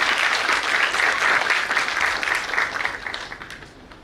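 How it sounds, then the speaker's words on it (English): An audience at a talk on nutrition and diet breaks into sustained applause to welcome a speaker, dense and steady at first, then thinning and fading toward the end. "Let's welcome her with a great round of applause,"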